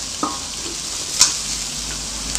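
Garlic and onion sautéing in a pan for native chicken adobo in coconut milk, a continuous bright hiss with a few brief scrapes and taps, close and fairly loud.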